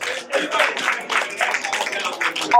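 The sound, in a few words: audience applause at award dinner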